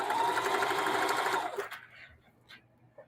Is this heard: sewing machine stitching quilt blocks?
yes